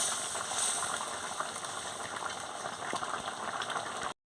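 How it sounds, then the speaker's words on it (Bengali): A pot of spinach, taro and prawn curry boils steadily, with a dense, even bubbling that stays close and constant until it cuts off abruptly. "দেখুন বন্ধুরা, টকবক করে কি সুন্দর ফুটছে,"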